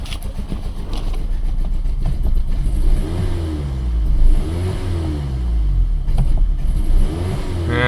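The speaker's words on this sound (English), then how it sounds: "Let's see if we can give it some throttle and get it out of this misfire." A Chevrolet Cobalt with a misfire and rough idle, revved with the throttle: a close, uneven engine note rising and falling in several surges, alone.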